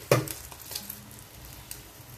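Small date-filled makroud semolina cakes, dipped in egg white, are lowered into hot oil with an initial splashy hiss, followed by a quiet, continuous frying sizzle close by, no talking.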